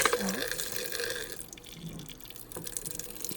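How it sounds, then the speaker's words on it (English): Tap water runs and drips faintly while nail implements and a basket are washed with soap, a soft continuous trickle with small splashes. "And I'm also just cleaning up the basket with soap."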